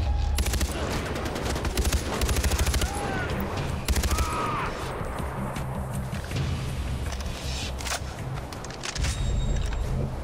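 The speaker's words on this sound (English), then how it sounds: "Gunfire?" Rapid bursts of automatic gunfire crackle through a Far Cry 4 firefight, with repeated volleys and scattered shots over constant game background noise, loud and sustained for about ten seconds.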